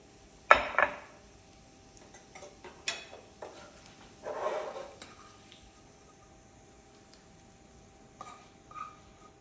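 Fried potatoes are shifted with a utensil onto a draining plate, giving a few sharp clinks and scrapes spaced apart, with a soft rustling scrape midway, quiet and close with no talk.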